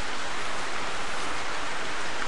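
Steady, dense rain hisses throughout a hunting video game, The Hunter: a continuous broadband downpour with no breaks or voices.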